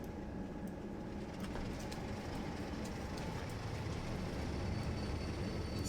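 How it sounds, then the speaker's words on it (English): A white commuter passenger train passes at close range in the distance of a busy rail line, a faint, steady rolling rumble with light clicks and hiss throughout, no voices. "This white one that's going by me, but it does more commuter passenger than long distance travel."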